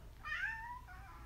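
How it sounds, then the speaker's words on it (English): A house cat gives a single drawn-out meow, close and fairly loud, with a falling tail over quiet background hum. "My cat likes to provide a lot of commentary for videos."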